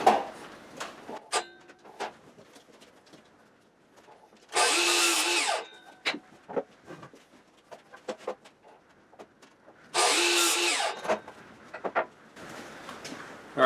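Power saw cutting wooden boards to length for a chicken coop wall, two loud sustained cuts of about a second each, separated by quieter clicks and handling noises, with occasional faint bird calls.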